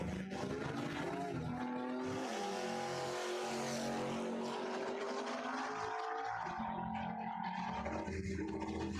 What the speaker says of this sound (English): That car did not sound great on the way down the track.